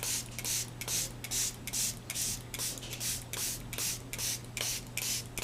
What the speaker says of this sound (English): So that's why I spray this glue on the top.